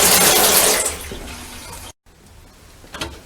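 Water rushing loudly from a fancy kitchen faucet, a steady broad hiss that fades and cuts out briefly, then continues more softly.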